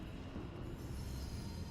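Trains rumble with squealing wheels in the sci-fi horror video game Alien: Isolation, a continuous low, fairly faint metallic roar with no talking.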